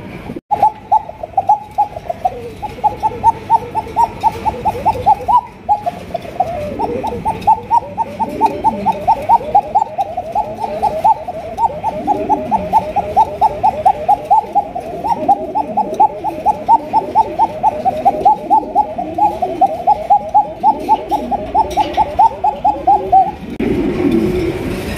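Pigeons for sale coo close by in a long run of rapid, rhythmic pulsing calls that repeat almost without a break, loud and clear over a soft background.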